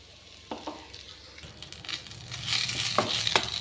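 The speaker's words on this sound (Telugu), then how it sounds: "ఆయిల్ పోసుకొని మునగాకు అయితే ఆయిల్లో వేయించుకోవాలండి మంచిగాను" Drumstick leaves (munagaku) frying in hot oil in a kadai on a stove, a soft steady sizzle that swells louder toward the end, broken by a few sharp clicks and scrapes of stirring.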